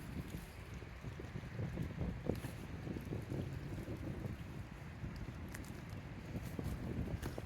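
Strong wind at Windang, New South Wales, Australia, buffets the microphone, a constant low rumbling roar with gusty surges throughout.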